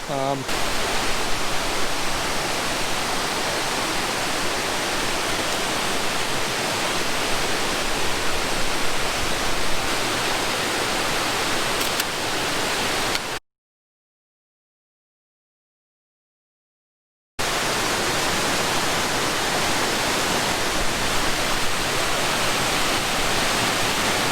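Water pours over a dam at Glendale Shoals Preserve, a steady broadband rushing roar held at constant level, broken by a few seconds of silence before resuming.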